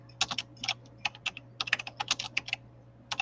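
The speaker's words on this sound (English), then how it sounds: "I'm typing the choices for everybody and putting them into the chat." Quick, uneven clicks of a computer keyboard being typed on up close, in short bursts with small pauses between.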